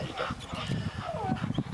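Dogs at a Swiss working-dog championship demonstration, including Malinois and a German shepherd, whimper and yip in short high whines close by, mixed with panting and some background voices.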